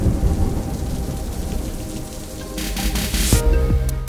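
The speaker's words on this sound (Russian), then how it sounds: "Электрический искровой разряд в атмосфере планеты, происходящий во время грозы, проявляется яркой вспышкой света и сопровождающим ее громом." Thunderstorm with steady rain on surfaces throughout and a loud thunderclap rumbling in near the end, with no voices.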